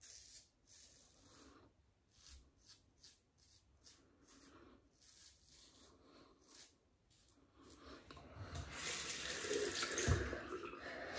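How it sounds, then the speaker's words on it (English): A Wilkinson Sword Flip Top double-edge safety razor is rinsed under a running tap after lathering with shaving soap: rhythmic scraping strokes first, then a rising, steady rush of water near the end. "So you have to rinse this regular, especially for the soap is a slick one."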